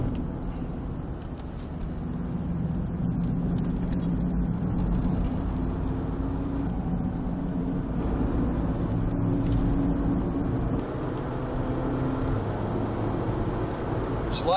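A BMW 318ti runs laps around Virginia International Raceway, its engine droning loud and steady from inside the cabin over a constant road rumble, with no break in the noise.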